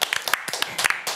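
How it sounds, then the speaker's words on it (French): A small esports studio panel team claps for themselves in a brief, quiet patter of scattered hand claps, a few sharp claps poking out of a thin, uneven burst. "applaudissez-vous"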